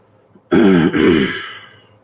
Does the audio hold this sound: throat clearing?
yes